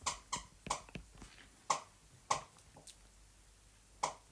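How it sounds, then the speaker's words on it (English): A dog chews a squeaky toy indoors, giving a handful of sharp, irregular squeaks spread across a few seconds, quiet and alone with no talk. "Apologies if you can hear something squeaking. That's my dog in his toy."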